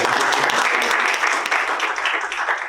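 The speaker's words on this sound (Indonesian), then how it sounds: "Berikan tepuk tangan." Dense applause fills a church worship service, a steady wash of many hands clapping together from start to finish without a break, with some faint voices mixed in beneath it.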